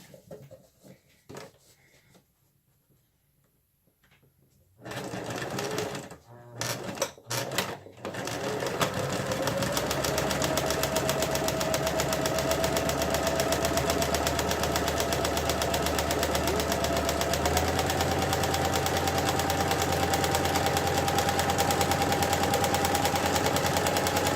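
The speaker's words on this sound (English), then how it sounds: "And we're going to sew to seal it." A sewing machine stitches an art pouch closed, starting after a few seconds of quiet handling and then running as a loud, continuous, fast mechanical whir with rapid needle chatter for most of the clip, close up and without talk.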